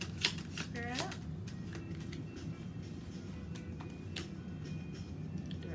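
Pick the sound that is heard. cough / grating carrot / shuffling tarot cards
shuffling tarot cards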